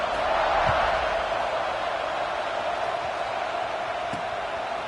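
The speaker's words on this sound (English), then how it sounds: "this crowd is buzzing after that last score" A college football stadium crowd buzzes after a score, a steady roar of many distant voices with no single sound standing out.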